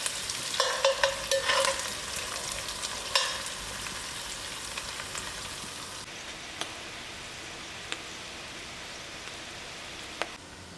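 Onions frying in a pan with thyme and curry leaves, crackling and sizzling under stirring scrapes at first, then easing to a quiet, steady sizzle with a few sharp pops.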